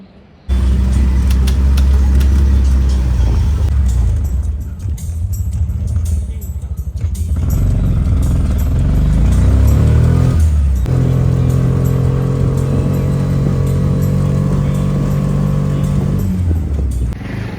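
A tuk-tuk engine revs up close and loud, rumbling and accelerating as it pulls away to park, with a steady droning run continuing afterward and voices talking over it.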